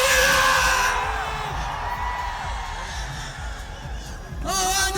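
A large crowd at a freestyle motocross show in Kochi cheers, whoops and yells in a loud, continuous roar that dips slightly and then swells again at the end.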